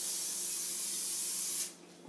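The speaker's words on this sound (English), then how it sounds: "Then you spray some more spray oil." Cooking spray oil hissing from a can in one continuous close burst that lasts most of the moment, then cuts off abruptly into quiet kitchen air.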